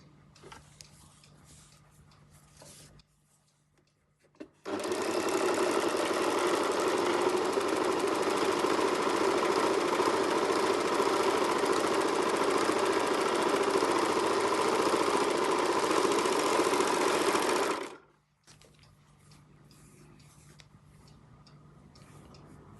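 A serger stitches a rolled hem along the edge of cotton fabric, its steady motor hum and rapid rhythmic needle clatter running loud and close for about thirteen seconds before stopping, with quiet room sound on either side.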